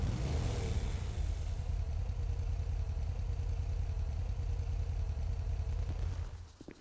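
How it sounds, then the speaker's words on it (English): A rusty motorbike engine idling in GTA 5, a steady low rumbling putter held close and loud for several seconds before fading out at the end, with no talking. "Oh, my rusty bike. I have missed you, because that sounds amazing."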